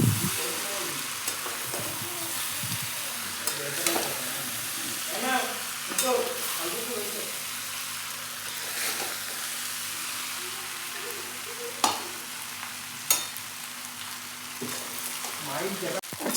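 Rice is stirred and fried in a pan, with a steady sizzle that continues throughout. A spoon or spatula scrapes and clinks against the pan in occasional sharp knocks, close by and moderately loud, with no talking.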